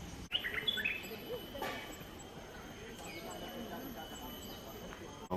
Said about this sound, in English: There are lots of birds calling.